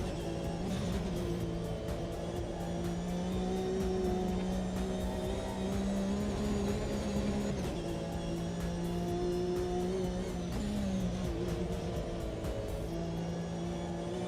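A race car engine in a racing video game holds a steady droning tone while the throttle is feathered, pitch wavering slightly up and down, loud and continuous without talk.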